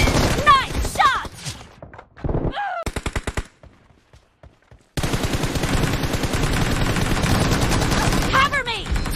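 An M416 rifle sprayed in full-auto bursts in PUBG Mobile: loud, rapid volleys broken by short pauses, then one long sustained burst, with brief game voice lines mixed in.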